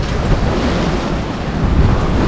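Rough, choppy sea on a sailing passage near the Balearic Islands, with roughly 1.5 m waves: a steady, loud broadband roar of wind buffeting the microphone and surging water around the boat, continuous with no voices.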